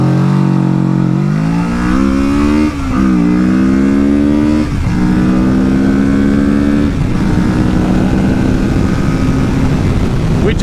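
A Kawasaki Ninja 650 sport bike pulls hard in first gear, its engine note climbing steeply through several rising sweeps with brief dips at shifts or throttle changes, then holding a loud, steady roar close to the listener.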